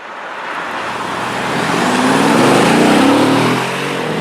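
A Mercedes E63 AMG wagon accelerates hard up a highway on-ramp, its engine note rising loud and steady from the cabin and building to a peak before easing slightly near the end.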